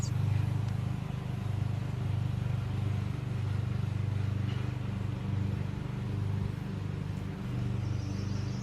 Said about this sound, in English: My neighbor across the street was mowing his lawn